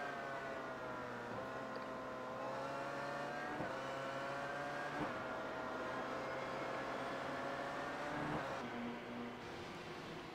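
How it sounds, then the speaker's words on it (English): Race car engines in the iRacing Le Mans Series at Suzuka, a whining, revving engine note that rises and shifts through gears, with pitch dips and surges, moderately faint and steady throughout. "You could hear Schiavon boosting just as we switch the camera."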